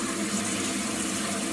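Water spewing from a burst frozen coil in an air handler, a steady loud hissing gush with no pauses, close and alone.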